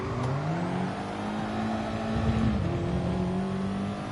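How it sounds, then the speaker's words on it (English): An Audi TT Gr4 race car in Gran Turismo at Spa revs up through second gear, its engine note climbing steadily, dipping briefly, then rising again, loud and continuous with no talk over it. "The way it revs through second gear, I keep checking that the traction control's not on"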